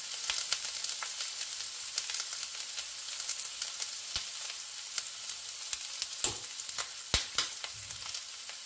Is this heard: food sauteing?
yes